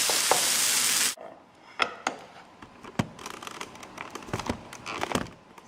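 Tofu Salisbury steaks sizzle in a pan while a spatula edge presses them back together. A loud burst of frying opens, then scattered close scrapes and taps follow over lighter sizzle.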